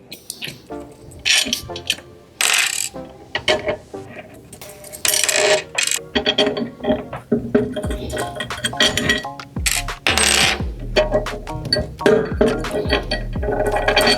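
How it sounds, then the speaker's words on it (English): Metal bolts are removed from a Pacer Pro handlebar during assembly, producing repeated close clinks, rattles and small metallic knocks in irregular bursts, with brief quiet gaps between. "Next, you'll want to remove the 4 remaining bolts from the handlebar."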